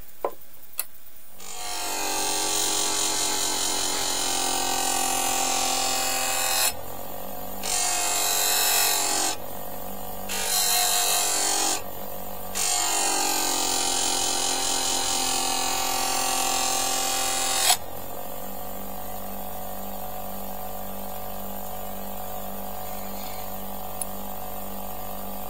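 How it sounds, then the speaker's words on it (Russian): A power tool polishes the cutting edge of an AK-74 bayonet (6Kh4) to a mirror shine, giving a loud, steady high-pitched whir in long bursts broken by short pauses, then stopping to near silence. "Также отполируем до зеркального блеска нашу режущую кромку, вот этот спуск"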